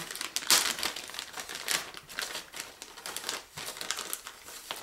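Plastic packaging crinkles and crackles up close as a sticker sheet is pulled from a 2013 Legacy Megazord toy box, in irregular loud bursts with no talk.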